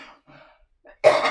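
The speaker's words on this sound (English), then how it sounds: "I really need to cough again." A person coughs once, loud and close, after a few faint breathy throat sounds, during a wood-burning pyrography session.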